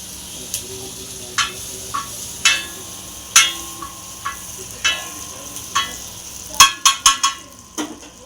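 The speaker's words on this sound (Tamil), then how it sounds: "இந்த பட்டர் துண்டு எடுத்து கல்லில் இப்படி போட்டுருங்க. அது வாட்டுக்கு உருகும்" Butter melting on a hot griddle gives off intermittent sharp pops and crackles over a faint background hiss. The spatters come every second or so at first, then cluster more densely toward the end.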